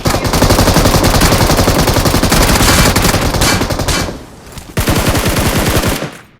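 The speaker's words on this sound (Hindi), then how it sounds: "बस उन पे गोली चला रहे होते हैं।" Rapid automatic gunfire from a BGMI match, loud and dense bursts of fast repeated shots with a brief lull before firing resumes, no voices.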